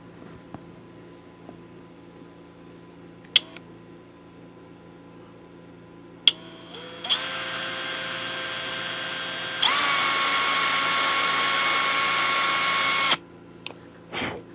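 A power drill bores a pair of holes close by: a few faint clicks, then a sustained whine that steps up louder partway through before cutting off, over a low background hum.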